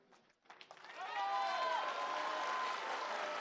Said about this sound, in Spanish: vamos a despedir a nuestra presidenta constitucional con un gran aplauso